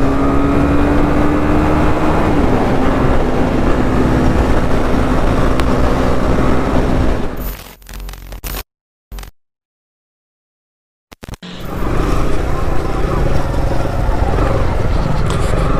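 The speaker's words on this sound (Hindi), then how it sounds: "अभी मैं चला रहा हूँ सीबी, होंडा सीबी 300" A Honda CB300R motorcycle accelerates hard with a loud, close engine drone and rushing wind, rising in pitch and then cutting out abruptly into a brief silence before the roar of riding returns.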